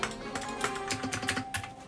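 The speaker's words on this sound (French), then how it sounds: "Vous entendez des bruits de clavier derrière," Rapid clattering of computer keys, typing in uneven bursts with a steady background hum, fairly close and continuous throughout.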